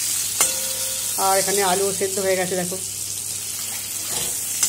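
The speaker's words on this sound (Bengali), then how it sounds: "আর পটলটা ভাজা হচ্ছে এখনও" Pointed gourd frying in a pan gives a constant low sizzle beneath someone speaking close by, with a couple of light utensil taps at the start and end.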